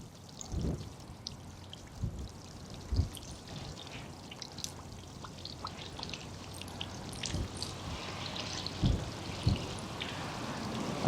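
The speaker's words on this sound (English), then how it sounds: "I'm going to wash one of the windows, the one that's facing us now so you can see it, with tap water" Tap water pours and splashes steadily across a car window, with irregular heavier gushes and drips over a continuous wet hiss.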